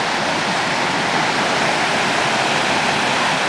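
Water from a waterfall at a scenic area near Jiuzhaigou crashes down in a loud, dense, unbroken roar, heard close and alone for a few seconds.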